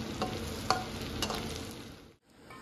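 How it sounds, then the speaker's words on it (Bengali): Food frying in a pan with a steady close sizzle and occasional stirring clinks, broken by a brief pause near the end. "এইভাবে ভেজে নেবো সমস্তগুলো"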